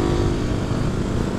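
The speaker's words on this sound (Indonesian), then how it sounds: "Ini motor ya." Motorcycle engine running steadily nearby during a Sunday morning group ride around Lembang, a dense, continuous droning roar with low rumble and no clear gaps, loud and close throughout.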